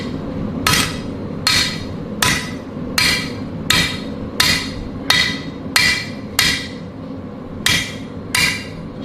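Blacksmith's hammer striking hot metal on an anvil, about a dozen sharp ringing blows at a steady rhythm roughly every 0.8 seconds, loud and close with a low shop hum between strikes.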